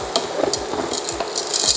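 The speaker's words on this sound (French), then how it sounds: "Je remue un petit peu." A spoon stirs minestrone with mini penne in a pot, quick repeated scraping and knocking strokes with a soft simmering sizzle underneath, close and fairly loud, no speech.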